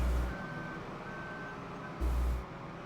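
Reversing beeps from a truck in Farming Simulator 15, a steady high tone pulsing at a moderate distance over a low engine rumble, with no talking.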